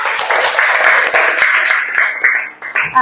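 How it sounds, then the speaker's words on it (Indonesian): A classroom of students applauds a classmate, giving close, loud clapping that carries on for a few seconds and thins out toward the end. "Tepuk tangan dulu untuk Zulfa."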